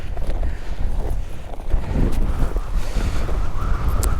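Strong, steady wind buffets the microphone in snowy Hokkaido, a dense continuous roar with gusts swelling and easing throughout and no voices.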